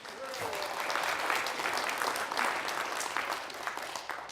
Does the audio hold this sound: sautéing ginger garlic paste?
no